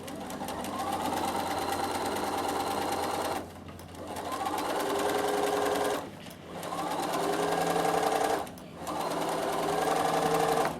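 A sewing machine stitches along a strip of Velcro with the inside of the presser foot guided along its edge, running in three steady, close bursts separated by brief stops.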